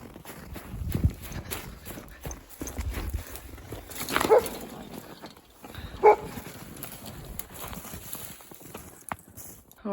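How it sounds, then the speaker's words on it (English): A farm dog barks in alarm outdoors near a fence, with a few sharp barks standing out over a busy background of hoof-like clops and footsteps, moderately close and loud. "as I was getting ready to show you guys, the dog's alarmed."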